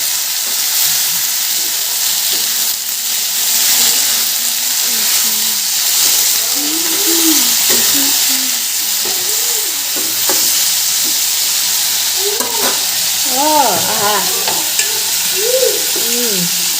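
Onions sizzle and spit in a hot pan of oil for a drumstick curry, a steady dense frying hiss throughout, with occasional stirring scrapes and a voice speaking briefly in the background.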